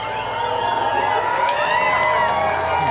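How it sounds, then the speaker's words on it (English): A large crowd cheers and whoops during the total solar eclipse in Russellville, Arkansas, a dense continuous roar of overlapping shouts and whistles filling the whole stretch. "The crowd, yeah, all around is completely electric."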